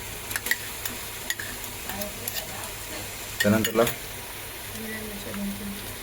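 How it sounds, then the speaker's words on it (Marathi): Homemade ginger garlic paste drops into a pan of browned frying onions for a prawn biryani, giving a soft background sizzle with a brief louder burst of stirring and spattering midway. "आता याच्यानंतर आपण टाकतोय आला लसूण पेस्ट, जी घरगुती आपण बनवलेली आहे"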